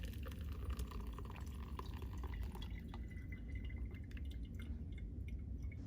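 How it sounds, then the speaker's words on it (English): Red cabbage liquid pours through a strainer into a container, a faint steady trickle and drip under a low background rumble. "take your filter and your strainer and a container and go ahead and filter out the pulp of the cabbage"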